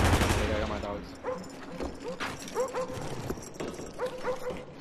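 Attack dogs barking in Call of Duty: Black Ops, hardcore team deathmatch on the Firing Range map, with repeated close barks and yips among gunfire and game noise, under players talking.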